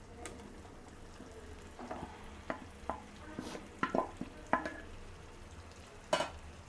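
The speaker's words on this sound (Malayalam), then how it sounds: "ഇനി നമ്മൾ ഈ തക്കാളി ഫുള്ള് നമ്മളിതിൻ്റെ അകത്തിട്ട് നമ്മളിനി വഴറ്റുകയാണ്" Onions and tomatoes sautéing in a pan for butter chicken, a faint low sizzle broken by scattered spoon clinks and scrapes as the mixture is stirred.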